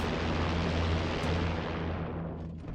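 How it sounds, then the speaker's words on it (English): A Spitfire IX piston aircraft engine in DCS World roars loud and steady at maximum RPM, a dense broadband drone with low harmonic bands holding throughout and easing slightly toward the end, with no voices. "That is a loud aircraft."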